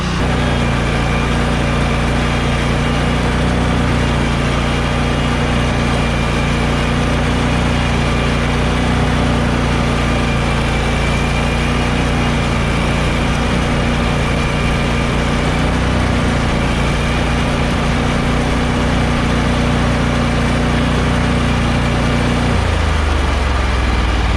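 A riding lawn mower engine droning loud and close while mowing a backyard, a continuous low rumbling hum that holds steady throughout with a slight drop in pitch near the end.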